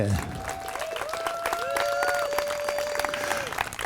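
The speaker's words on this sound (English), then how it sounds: "how about a great big round of applause for the Windjammers Unlimited?" Concert audience applauding the Windjammers Unlimited circus band in Baraboo, a steady wash of clapping from the crowd with a few whistles or shouts heard over it throughout.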